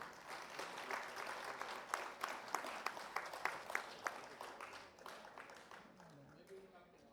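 Applause from the audience at the CIDC Vishwakarma Awards 2024 ceremony, dense and steady for about five seconds, then thinning and fading while a voice begins near the end.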